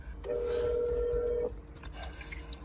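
A steady electronic telephone tone holds for about a second, loud and close, as a call is placed, then it cuts off and leaves a low background hum.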